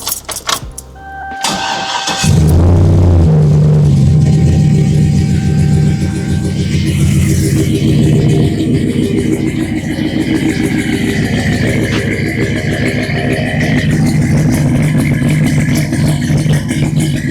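An LS V8 engine in a truck cranks and catches, then settles into a loud, steady close-up idle rumble that holds for the rest of the clip.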